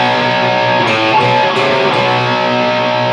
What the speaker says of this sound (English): we're going to introduce the main riff